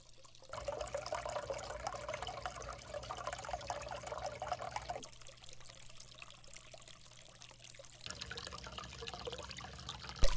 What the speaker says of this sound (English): So here it is, the finished water bearer fountain.